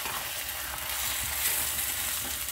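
Rice for a Himachali dham being dry-roasted and stirred in a hot pan gives a continuous close hiss and crackle, with soft scraping as the grains are turned, and no talking.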